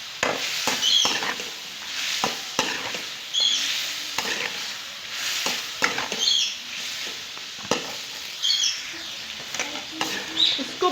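Tomatoes and korma masala frying in hot oil for a Lahori chicken korma, giving a steady close sizzle with soft stirring scrapes and faint crackles that continue throughout.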